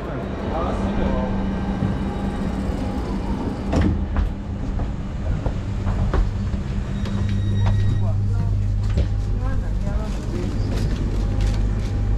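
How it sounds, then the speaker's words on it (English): A busy central train station at 8 a.m. rush hour hums with a rumbling train and engine drone, scattered clatter and people talking throughout in the background. "Right now we are at the central train station."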